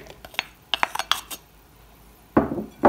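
Chopped crispy pata and liver are tipped into a mixing bowl, a run of sharp clinks and scrapes of a utensil against the bowl, followed by a louder, brief rustling clatter near the end.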